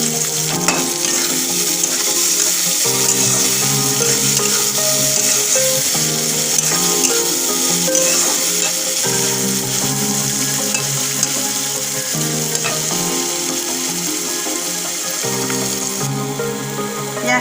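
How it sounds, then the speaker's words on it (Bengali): Onion and green chili fry in hot oil with a steady, loud sizzle, while a utensil stirs through the pan in repeated scraping strokes. "তেল আমার গরম হয়ে গেছে, এবার আমি কাঁচা লঙ্কা আর পেঁয়াজটা দিয়ে দেবো।"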